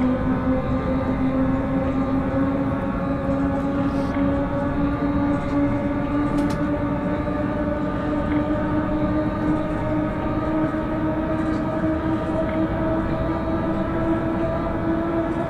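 An old BR 476 S-Bahn Berlin electric train runs in Train Simulator 2021, its motors humming in a steady rising whine over loud continuous rumble and rattle, with faint clicks, sustained throughout and no talking.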